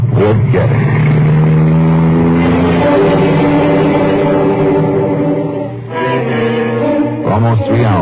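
A 1950s radio drama sound effect of a car driving, a loud close engine drone with shifting pitch as it revs and changes gear, continuing throughout without a break.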